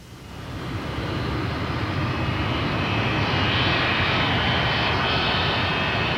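Engines of a B-47 strategic bomber roar in a broad, continuous rush that swells slightly over the first second and then holds loud and steady throughout, with no voices.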